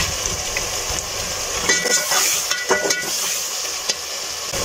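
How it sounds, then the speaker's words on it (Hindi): Mixed vegetables dropped into a pan of softened, sizzling tomatoes: a loud hiss of frying, with clinks and stirring knocks as the pieces land and get turned, close by. "टमाटर नरम होते हैं तो फिर डालती हूँ सब्जियाँ, मिक्स सब्जियाँ।"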